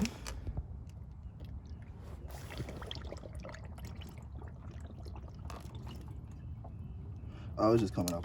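Coolant being poured into the radiator of a 2012 Nissan Altima 2.5, a steady low trickle and gurgle heard close by, with a brief louder splash near the end.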